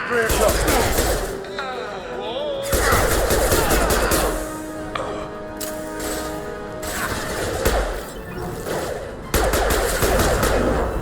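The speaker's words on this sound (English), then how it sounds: "Firing an impact shot!" Impact shot gunfire in Mass Effect 2 Legendary Edition comes as several loud bursts of rapid fire, separated by gaps where voices talk and mechanical tones hum.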